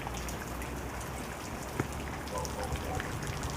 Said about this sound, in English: I really love the rain. It's so beautiful and it's so peaceful to listen to.